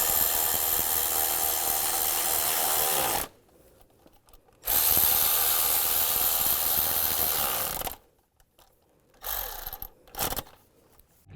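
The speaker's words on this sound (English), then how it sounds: "These are the 2 longer bolts, 10 millimeters. And tighten them down." A power tool drives down two 10 mm bolts on a car suspension, two long steady whirring runs of about three seconds each separated by silence, then short bursts, loud and close, no talking.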